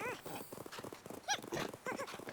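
Horse hooves clip-clopping in Zelda Tears of the Kingdom, a quick rhythmic run of hoofbeats with a couple of whinnying neighs cutting through, close and clear.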